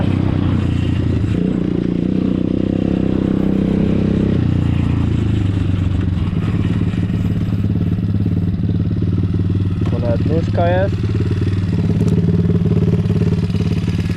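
A new Moretti 170 engine in an MRF pit bike runs steadily near the mic, idling and then revving with a low mechanical drone and clatter while someone talks over it.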